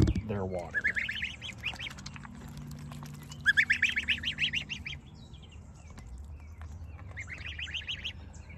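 Geese and ducks calling near water, with several bursts of honking, quacking cries over a low background hum, plus some chirping birds; a voice speaks briefly.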